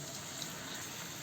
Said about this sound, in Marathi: आपण यामध्ये टाकणारे थोडंसं पाणी